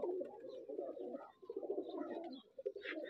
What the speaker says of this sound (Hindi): माशाल्लाह दूसरी साइड पर कुछ बैठे ने कबूतर।